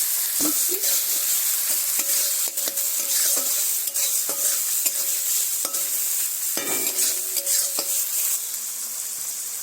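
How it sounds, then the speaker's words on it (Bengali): Chopped garlic, tomato and onion stir-fried in oil left over from frying capsicum give a steady loud sizzle, broken by repeated scraping strokes of a spatula in the pan. "ক্যাপসিকাম ভেজে নেওয়া তেলের মধ্যে রসুন কুচি, টমেটো কুচি এবং পেঁয়াজ কুচিগুলো দিয়ে ভালো করে নাড়াচাড়া করে নেব।"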